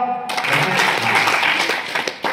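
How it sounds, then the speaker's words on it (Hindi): Schoolchildren clap together at a motivational talk, a dense, steady wash of many hands that starts abruptly and carries on for a couple of seconds. "ताली बजाओ"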